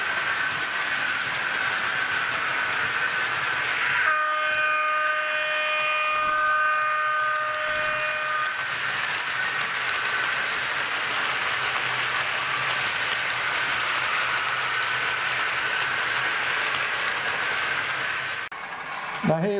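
A Hornby model train pulls Cross Country Mark 3 coaches around a layout, a steady close rumble and clatter of wheels on track with a faint squeal, while someone speaks over it.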